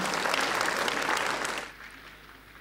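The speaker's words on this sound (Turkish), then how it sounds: "alkışlarla sahneye geliyor" Applause from an audience at a children's reading award ceremony, moderately loud and steady as a student walks on stage, then fading quickly into quiet room tone.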